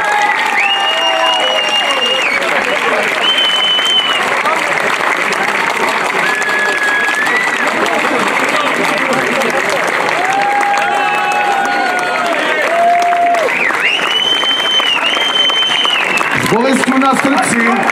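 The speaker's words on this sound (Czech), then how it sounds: "Zatleskejte jim obom, zatleskejte jim všem." Audience applauding at the Horňácké slavnosti folk festival in Velká nad Veličkou after the Supí škrek singing final, steady loud clapping and crowd noise throughout with voices, whistles and tonal calls mixed in.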